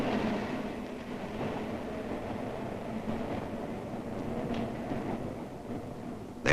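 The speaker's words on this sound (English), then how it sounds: "Ride the elevated train, all the way from the Battery far uptown." An elevated train rumbles through New York, a continuous, dense roar of wheels and rails with a clattering texture, loud and steady throughout.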